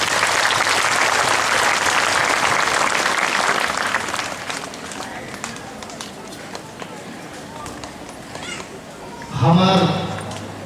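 A congregation at a church diamond jubilee claps loudly and steadily for several seconds, then the applause thins into scattered claps before a brief swell of noise near the end.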